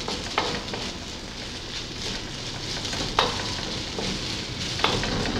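Peppers stir-fry in a pan with noodles and shrimp, a steady close sizzle punctuated by a few sharp scrapes and clacks of the utensil tossing the food.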